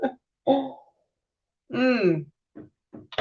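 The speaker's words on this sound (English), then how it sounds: "Now I'm clearing my throat" A few short, gruff throat-clearing grunts up close, with a brief voiced hum among them and quiet gaps between.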